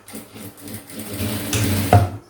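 A sewing machine stitches blouse fabric in a continuous, close mechanical whir that builds slightly toward the end, with a brief clack near the finish.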